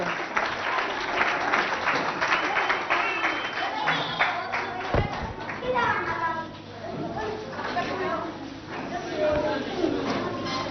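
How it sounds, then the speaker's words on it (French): An audience at a school competition in Chad applauds to welcome the jury members, giving sustained clapping mixed with children's voices and chatter throughout, fairly loud and busy. "Vous allez applaudir pour accueillir les membres du jury pour la synthèse."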